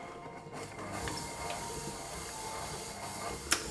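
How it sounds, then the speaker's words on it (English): A hand mixer creams two sticks of softened butter for a black velvet cake, giving a steady, fairly quiet motor whir with a faint hiss throughout and a brief sharper clack near the end. "using a hand mixer or a stand mixer, we're going to beat this up until it's nice and creamy"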